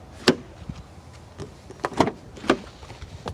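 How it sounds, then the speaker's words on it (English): Door locks on a 2016 Chrysler 200S clunk several times, with sharp separate mechanical clicks spaced about half a second apart at close range and no talking. "I'm going to unlock the door again."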